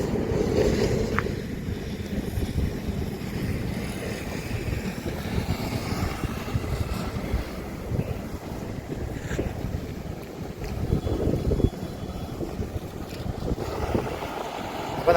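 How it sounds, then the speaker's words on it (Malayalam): A truck's cooling fan spinning loudly while the vehicle drives, giving a steady, dense roar with wind buffeting across the whole stretch and no voices. "ഫാൻ കറങ്ങണ സൗണ്ട്, ഭയങ്കര സൗണ്ട്."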